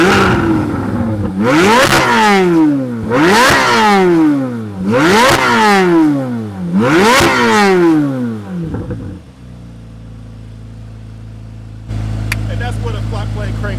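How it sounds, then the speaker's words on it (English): A Chevrolet Corvette C8 Z06 with a flat-plane-crank V8 revs hard four times in close, loud bursts, then drops to a low idle under a steady jet-like cooling-fan whir. "That's what a flat plane crank V8 sounds like."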